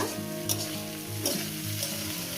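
Ivy gourd fried with egg in a pan with a little ghee, giving a steady close sizzle with a few brief scraping stirs, and no talk.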